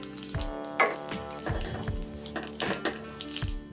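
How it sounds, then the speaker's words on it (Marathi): Sesame seeds crackle and pop while dry roasting in a hot pan, irregular sharp snaps mixed with the scrape of stirring against metal. "भाजताना तीळ उडते आणि त्याचा तडतड असा आवाज होतो"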